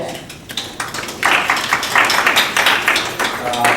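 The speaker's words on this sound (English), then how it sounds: "Could you give her a round of applause?" An audience at a college event applauds the dean of arts and sciences; a dense, steady wash of clapping swells after a quiet start and carries on to the end, with voices mixed in.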